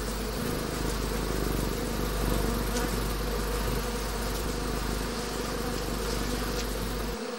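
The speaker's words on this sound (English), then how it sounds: "surrounded by belligerent bees" Honeybees swarm around their honeycombs, a dense, constant buzzing drone that fills the space at close range, loud and unbroken.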